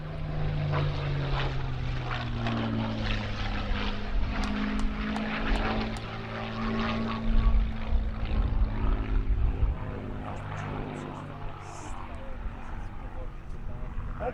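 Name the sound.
Supermarine Spitfire Merlin engine flying a victory roll at airshow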